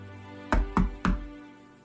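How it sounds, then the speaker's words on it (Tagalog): Three sharp knocks at the back door of a house beside a bakery, evenly spaced and close, each a solid thump, with quiet room tone before and after. "Sino kaya yung kumakatok sa may likod?"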